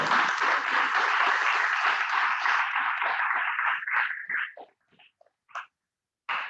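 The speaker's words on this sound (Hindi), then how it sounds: "खुशी के मौके पे तो ताली बजानी चाहिए ना, तो बजाओ, ये तालियों की आवाज इनको भी तो आए" Audience clapping at a religious celebration during the Chaliya festival, a dense sustained round of applause that thins into a few scattered claps and falls to near silence, picking up again briefly at the end.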